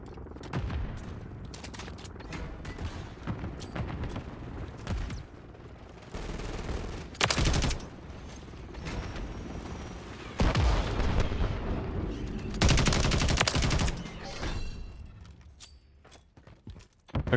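Dense gunfire and explosions from a Call of Duty MW3 multiplayer match with a Taq Evolvere rifle loadout, rapid bursts of shots, heavy booms and continuous battle noise throughout, loud and close.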